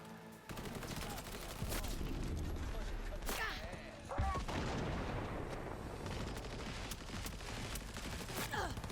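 Bursts of assault rifle fire in the video game Cyberpunk 2077, with a loud, dense battle mix of repeated shots and booms over about nine seconds and voices talking in the background.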